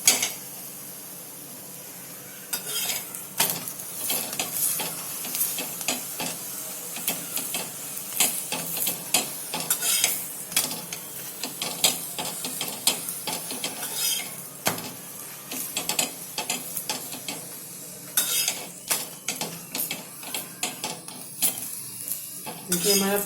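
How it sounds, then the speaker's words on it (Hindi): An onion paratha cooks on a pan over low heat while it is pressed down. A constant close sizzle is broken by repeated scraping and clattering from the pan and spatula, and no one speaks. "इसको थोड़ा धीमी आंच में थोड़ा सा पकाएंगे, दबा दबा के"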